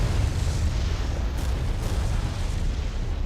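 In the war game Regiments, bombs explode with heavy, rumbling booms that roll into one another, loud and continuous with no talking over them.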